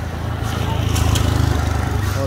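Honda Beat motor scooter engine running steadily nearby, a low continuous putter with a slight pulsing rhythm, heard near a flooded road where the scooters wade through water.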